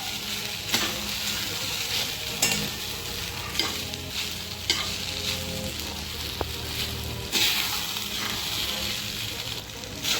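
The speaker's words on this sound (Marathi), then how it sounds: "आता यामध्ये आपल्याला साबुदाणे टाकून घ्यायचे आहेत आणि या साबुदाण्यांना आता आपल्याला 2 मिनिटं असंच परतून घ्यायचं आहे" Sago pearls being sautéed with potatoes in a pan for fasting-day sabudana khichdi, a continuous soft sizzle broken by repeated scraping stir strokes of a spatula, with no speech.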